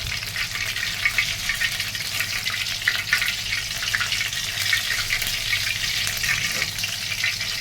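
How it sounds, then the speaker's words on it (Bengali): Oil heating in a frying pan on a stove, a loud, steady crackling sizzle that holds constant throughout with small pops and no speech. "তেলও গরম হচ্ছে।"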